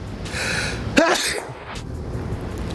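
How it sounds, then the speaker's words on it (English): A single sharp sneeze bursts out suddenly, loud and close, followed by a brief breathy trail and quiet room tone. "I think I'm gonna sneeze"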